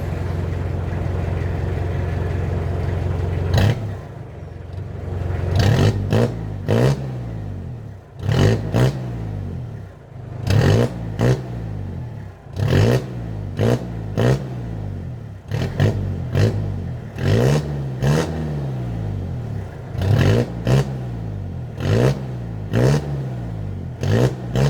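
A Mitsubishi L200 pickup with a Borla Pro XS exhaust and its muffler tip removed idles, then revs again and again. The throaty bursts rise and fall one after another, loud and close.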